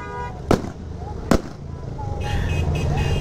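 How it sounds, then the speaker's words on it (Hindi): Diwali firecrackers bursting outdoors: two sharp, loud, close bangs about a second apart, set against street noise with engine rumble and short tooting vehicle horns. "पूजा का मेन आतिशबाजी प्रोग्राम तो यहीं पे ही हो रहा है भाई।"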